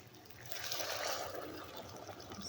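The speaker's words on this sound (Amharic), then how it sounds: "ውሃ እንዳስፈላጊነቱ እንጨምራለን" Water is poured into a pot of simmering lentils for lentil soup, a steady splashing trickle lasting a couple of seconds at moderate, close range.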